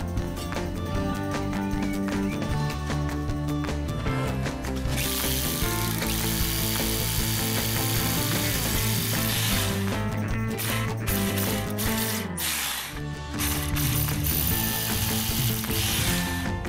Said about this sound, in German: Und dann muss ich nur noch an die Wand schrauben.